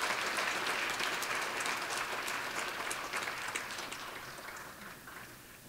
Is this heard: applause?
yes